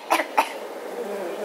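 Two short, dry coughs come quickly one after the other, close and fairly sharp, over a low, steady background hum.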